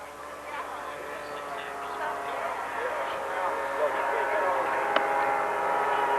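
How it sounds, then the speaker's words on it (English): A radio-controlled scale Ki-100 warplane model takes off and climbs out at an outdoor scale competition, its small engine droning steadily and fairly loud beneath a commentator's voice. "here's Lee Rice taking off with his KI-100, and he's airborne"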